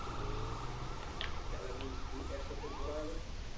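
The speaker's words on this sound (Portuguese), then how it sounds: "Ambulância." A wailing ambulance siren in Grand Theft Auto V Online rises and falls repeatedly, moderately loud over a constant engine-like rumble.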